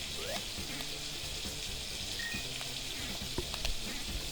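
Food sizzles and fries steadily in a pan as a family cooks dinner in the background, a faint continuous hiss with small clinks and taps, distant and low under the room.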